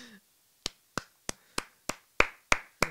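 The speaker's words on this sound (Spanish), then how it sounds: "No me queda nada más que aplaudirle" Eight sharp hand claps ring out one by one at a steady, slightly uneven pace, close and crisp against an otherwise quiet background.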